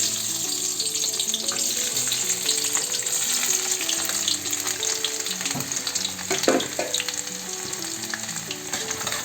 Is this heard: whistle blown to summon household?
no